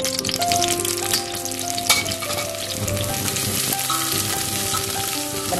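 Food stir-frying in a little oil in a dry pot for a home-cooked meal, a steady dense sizzle and crackle throughout, close and loud, with metal stirring clinks and a faint melodic background tone.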